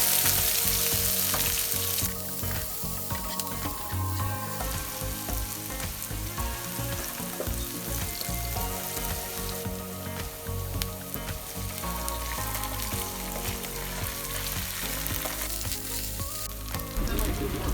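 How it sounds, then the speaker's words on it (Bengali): Vegetables fry with spices in a pan while making chicken vegetable pulao, giving a loud, continuous sizzle with occasional stirring scrapes and no voices throughout. "এবার সবগুলো সবজি একসাথে মশলা দিয়ে কষিয়ে ভেজে নিব।"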